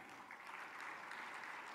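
An audience applauds at an Indonesian government event honoring small-business entrepreneurs and loan recipients, a steady wash of clapping heard at moderate distance.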